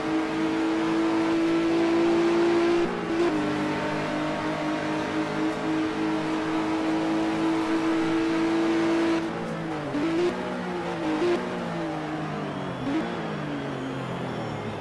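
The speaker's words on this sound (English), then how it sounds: "we can hear the differences in the way they have the gearbox set up as well" Touring race cars from 1985 at Pukekohe climb through their revs with a steady high engine drone. Near the end, gear shifts and pitch swoops break the tone as the cars brake and accelerate out of the hairpin.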